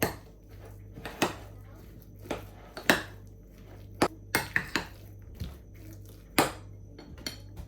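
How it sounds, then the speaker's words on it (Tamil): Urad dal vada batter being mixed in a bowl, an irregular series of sharp clinks and knocks from a utensil against the bowl, with quiet gaps between strikes. "இப்போ நான் இதை நல்லா கலந்து விட போகிறேன்"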